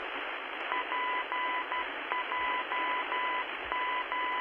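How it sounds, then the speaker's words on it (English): Morse code identifier from a navigation radio tuned on NAV 1 in X-Plane 12, flying a Felis 747-200: a steady beeping tone in repeating dot-dash groups over constant radio static hiss. "Listen for the Morse code."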